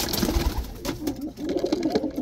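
A racing pigeon kept as a breeder for one-loft races coos softly at close range in low, repeated throaty rolls, with a few faint rustles around it.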